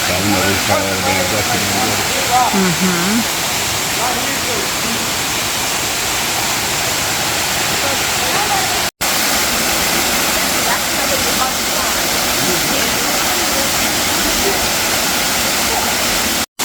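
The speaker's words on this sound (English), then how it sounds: "We even have somebody who's brave enough to climb up to the waterfall." A waterfall at Turkey Creek, Alabama rushes in a loud, constant broadband roar, with indistinct voices of people nearby early on.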